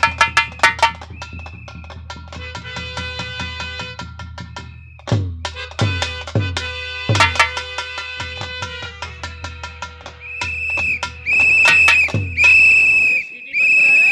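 A sharp whistle shrills several times near the end, loud and sustained, over a busy mix of clattering hits and background chatter in a comic Hindi nautanki stage scene.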